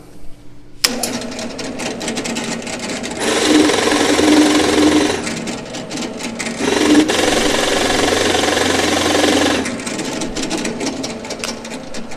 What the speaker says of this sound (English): as the machine's spinning, it might grab the wood and twist it and smack that column